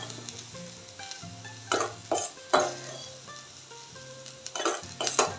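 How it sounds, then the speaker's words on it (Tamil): Mashed vegetable samosa filling being stirred with spices in a pan, spoon scraping and clinking against metal in irregular close strokes over a soft sizzle, without talk. "இது வந்து நல்லா கலந்து விட்டுக்கணும்."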